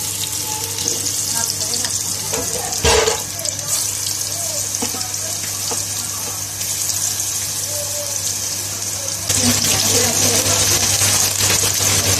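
Pakora batter frying in hot oil, a steady, close sizzle that carries through the whole stretch and swells louder toward the end, with faint background sounds alongside.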